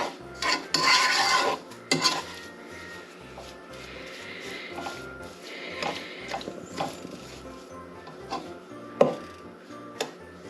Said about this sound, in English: we are going to start stirring